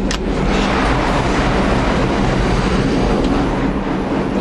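Loud, steady roar of a moving subway train heard close up, with dense broadband rumble and faint rhythmic rail clatter throughout, no voices.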